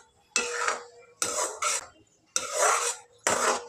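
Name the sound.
stirring kheer with jaggery in a pot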